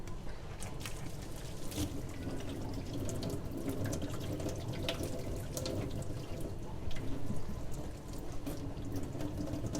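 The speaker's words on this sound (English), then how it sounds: "I'm just going to give it a good rinse and soak." Tap water runs steadily over a toner bottle being rinsed in a sink, a constant hiss and splash with occasional sharper drips and knocks, fairly quiet and close, without voices.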